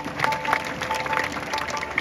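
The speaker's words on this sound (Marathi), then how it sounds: "एकदा जोरदार टाळ्या" An audience claps steadily but quietly, a soft scattered patter of hands across the whole stretch with no one speaking.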